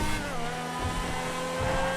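A race car from the GTA Online Cunning Stunts update is revved in-game, giving a sustained, buzzy engine drone with rising and falling harmonic tones, held close and loud without talk.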